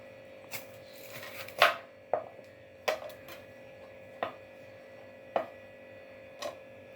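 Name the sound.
cutting bitter gourd lengthwise with a knife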